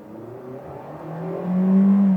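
A 2023 Citroën C3 Feel Pack with automatic gearbox launches hard from a stall start, its engine droning low then swelling into a loud, steady rising rev near the end, with no one talking.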